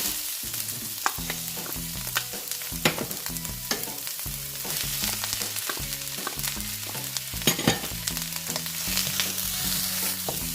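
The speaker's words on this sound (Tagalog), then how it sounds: "this same pan, we will put a little bit again of olive oil. And then we will now put our ginger." Ginger and onion frying in olive oil in a pan, a steady loud sizzle with repeated stirring scrapes and clatters close up throughout.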